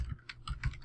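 Computer keyboard typing right beside the microphone, a quick run of close, crisp clacking keystrokes in short bursts, with no voices.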